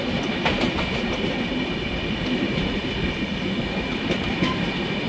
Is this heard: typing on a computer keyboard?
no